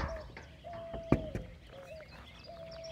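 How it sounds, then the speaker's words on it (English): Soft, low cooing from a dove repeating a few times at a distance in a Texas state park, with light outdoor noise and a sharp knock partway through. "That cooing noise you hear are dove."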